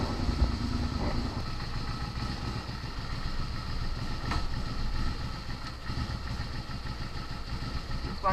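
A newly bought motorcycle idling while it warms up, its steady engine rumble running close and continuous from start to finish with a slight mechanical clatter and no talking.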